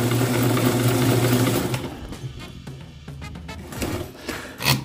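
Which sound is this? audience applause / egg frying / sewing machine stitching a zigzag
sewing machine stitching a zigzag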